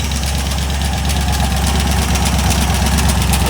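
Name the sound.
LS 4.8 engine running with internal knocking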